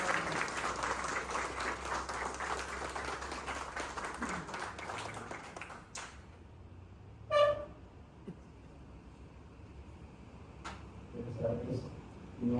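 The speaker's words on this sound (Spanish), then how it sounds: "un aplauso fuerte" An audience at a Salvadoran book presentation claps steadily for several seconds, the applause fading out midway into a quieter room with a few scattered knocks and small handling noises.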